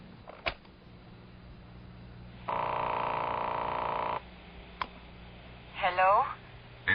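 A recorded telephone call connecting in a 1970s radio drama: a click, a steady electronic tone lasting under two seconds, another click, then a brief warbling ring, all thin and band-limited like a phone line.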